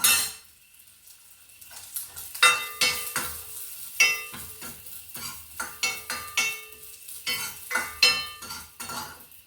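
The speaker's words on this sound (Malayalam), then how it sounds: "ഈ ഉണക്കമുന്തിരിങ്ങയും കൂടെ വറുത്തെടുക്കാം" Metal spoon scraping and clinking against a pan in quick irregular strokes while frying raisins for Kerala payasam, with a soft sizzle of frying underneath; no talking.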